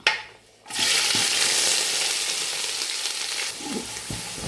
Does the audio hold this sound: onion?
yes